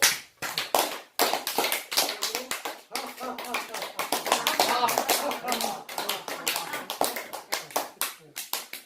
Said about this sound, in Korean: 박장대소라서 손뼉을 치면서 웃는 걸 말해요. 한번 때려봐요, 손뼉을.